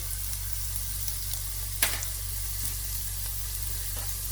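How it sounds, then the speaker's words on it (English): Spices fry in a pan for a Kerala fish curry, a steady close sizzle with one sharp clink partway through and a low continuous hum underneath. "Fry them for about a minute or so."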